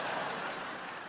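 A short burst of applause rises from a comedy show audience, a brief, fairly steady patter of clapping without talk.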